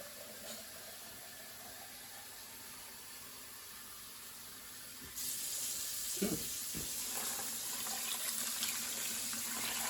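Cool water runs into a canner pot for canning turkey, a steady faint hiss of flowing water that becomes louder and brighter midway, with a few soft knocks.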